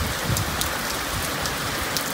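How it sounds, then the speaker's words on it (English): Heavy rain falling outside on a very rainy day, a dense, steady hiss of drops striking surfaces with faint individual patters, continuous and fairly loud with no voices. "just another very rainy, rainy day"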